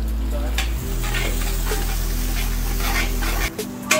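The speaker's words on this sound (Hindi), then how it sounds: "अब मैं इसमें डालूंगा स्लाइस अनियन" Sliced onions sizzle in a hot pan while soya chap masala cooks: a loud, continuous frying hiss with light stirring scrapes, ending in a brief clatter.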